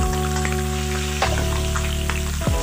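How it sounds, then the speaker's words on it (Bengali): Boiled eggs sprinkled with turmeric fry in hot oil in a wok, giving a steady close sizzle with a few louder crackling pops, heard alone over a low constant hum. "ডিমগুলোকে আমি একটু হলুদ ছিটিয়ে ভেজে নেব"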